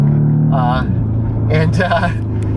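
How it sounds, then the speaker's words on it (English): Low engine rumble of a car driving past outside, with people talking over it. "you can hear this, the outside sound is real, right, of the car driving by"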